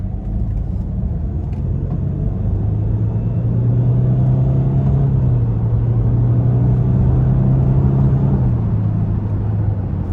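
A 2016 Land Rover Range Rover Sport HSE td6 diesel accelerating, its steady low engine drone swelling and rising in pitch from inside the cabin for about ten seconds, with no talking.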